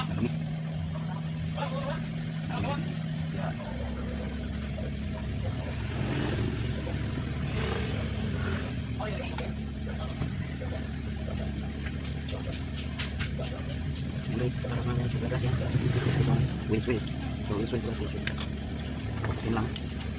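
Kia Bongo truck engine running during axle and brake repair, a steady low rumble throughout with swells of revving, close by, with people talking over it in a workshop.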